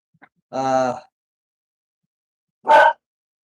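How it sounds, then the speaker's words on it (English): A dog gives two barks outdoors in a rural Philippine province, a longer, tonal bark followed after a pause by a shorter, sharper one, fairly close and alone without talk. "Dog's barking out for something or other."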